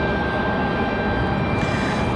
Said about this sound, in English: Delta 2600 turning on to final here. Coming in from Atlanta, 737-900.